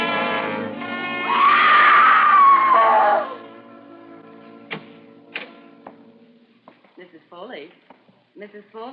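A woman screams in an old radio drama, a loud sustained shriek over an orchestral swell, followed by quieter thuds, sharp knocks and faint voices.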